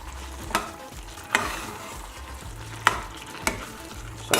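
A spoon stirs basil chicken pasta with Parmesan and tomato sauce in a hot pot, the food sizzling steadily while several distinct scraping knocks land at irregular intervals, close and fairly loud with no talking.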